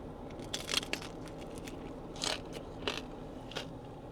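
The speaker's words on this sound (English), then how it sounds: "And lastly, this crunchy fried chicken." Someone bites into crunchy fried chicken with a very thin batter at a restaurant on Oahu, Hawaii, producing several quiet, close crackling crunches in a soft, steady room background.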